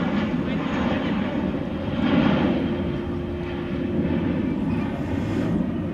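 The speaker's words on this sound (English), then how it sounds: "And here comes an aircraft belonging to an airline which has got a lot of questions this week. Spirit Airlines Flight 1246 going to Las Vegas in Airbus A321." A Spirit Airlines Airbus A321 passes near Dallas/Fort Worth International Airport, a loud, steady jet engine roar that swells slightly midway and holds a continuous drone, close to the listener.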